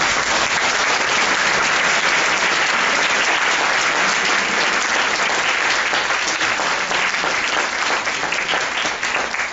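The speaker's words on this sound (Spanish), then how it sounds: "quisiera les ofreciéramos un aplauso bien merecido" Sustained, loud applause from a large lecture audience, clapping steadily throughout without pause.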